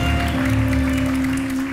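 Studio audience applause on a Turkish late-night talk show, a steady, dense wash of clapping holding at full level throughout, with a faint tonal hum beneath.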